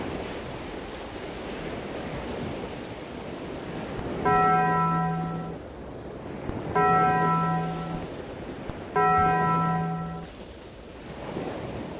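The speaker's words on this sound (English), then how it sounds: "I'll start ringing this bell 3 times" A ship's bell in the Rec Room VR video game rings three times, evenly spaced and clear, over a steady wind-like ambient wash with no talking.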